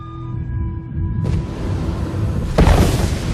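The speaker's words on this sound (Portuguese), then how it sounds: "Como um tiro de revólver, gases quentes e escombros são lançados no espaço por essas mortais explosões solares" Supernova explosion sound effect: a low sustained rumble swells, then a heavy boom bursts out near the end, with a bright crackling wash that trails off.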